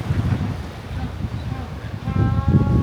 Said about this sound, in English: it is very windy and rough here now. So apologize if there's a lot of wind noise